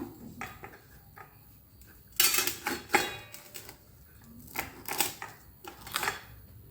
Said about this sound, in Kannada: ಈ ಪಾರ್ಟ್ನ ಫಸ್ಟು ಕಟ್ ಮಾಡ್ಕೋತಾ ಇದ್ದೀನಿ ನಾನು